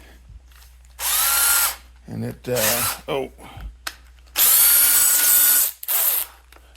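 A cordless drill with a wrecked chuck is run in several short bursts of whirring with rough grinding in between, close and loud, separated by brief pauses.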